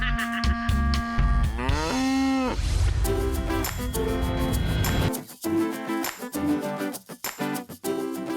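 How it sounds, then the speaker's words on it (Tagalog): Cows on a farm in New Zealand moo loudly and close by, several long drawn-out calls in a row, some overlapping, over steady outdoor background with no speech. "At ang mga baka, tila nakikinig at sumasagutin."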